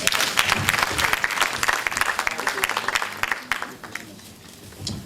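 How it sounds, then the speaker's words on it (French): An audience applauds a singer at her book-signing event, a steady burst of clapping close and fairly loud, thinning out over the last second. "on peut l'applaudir s'il vous plaît"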